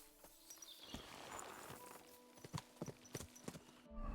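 Horse in Kingdom Come Deliverance 2 walking with soft, irregular clip-clop hoofbeats, faint and close, over a quiet ambient background.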